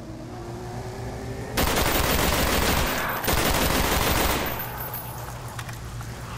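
Rapid automatic gunfire from a weapon in Call of Duty: Black Ops zombies mode bursts in loud, dense volleys, two sustained strings of shots with a brief gap between them, over a low game background hum.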